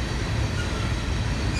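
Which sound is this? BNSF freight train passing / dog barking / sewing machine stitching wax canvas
BNSF freight train passing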